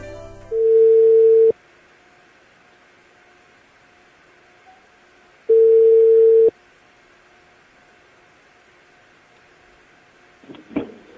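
An outgoing phone call from the United States gives two long, steady ringback tones about five seconds apart over faint line hiss. A brief burst of sound follows at the end as the call connects.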